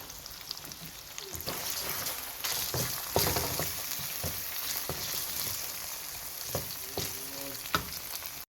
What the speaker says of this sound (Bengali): এখন আমি এক সাইড করে রেখে চিকেন আর ডিমটাকে ভেজে নেব।